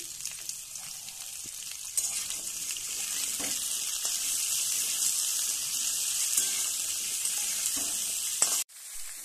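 Potato pieces frying in a pan with a little salt, giving a continuous bright sizzle with light stirring scrapes, moderately loud and steady before cutting off sharply near the end.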